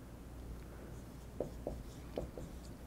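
Pen or marker writing out an equation on a board, with a few soft, separate strokes and taps close by over a quiet room background.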